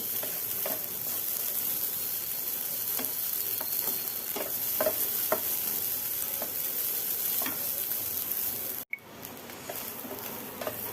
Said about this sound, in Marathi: अगोदर ह्याला 1-2 मिनिटं छान परतून घेऊया तुपावरती।